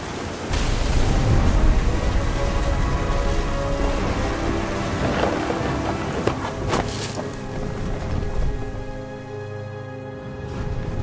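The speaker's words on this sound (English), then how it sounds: "The thunder sounded much too close and full of angry power." Heavy rain pours steadily in a thunderstorm in the game What Remains of Edith Finch, with rumbling thunder and a few sharp cracks rising over the dense, loud wash of rainfall.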